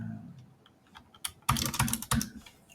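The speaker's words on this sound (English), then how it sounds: "Just type it." Typing on a computer keyboard, a few soft taps followed by a quick burst of louder clacking keystrokes, close and alone.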